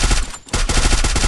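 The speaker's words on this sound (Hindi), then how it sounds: "फायर की आवाज़ टेंट के अंदर से आ रही है।" In the Free Fire video game, rapid gunfire bursts from inside a tent as a loud, close volley of shots. There is a short gap midway before the firing resumes.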